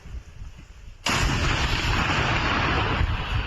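A single heavy shot from a British L119 105 mm howitzer cracks out suddenly, followed by a sustained roaring rumble that hangs in the air.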